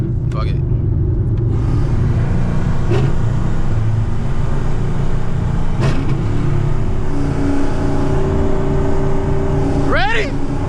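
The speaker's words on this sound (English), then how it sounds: "I'm misfiring again." Camaro ZL1 engine misfiring while driving, a loud, steady rumble with uneven stumbles and brief sharp pops, continuous and close throughout.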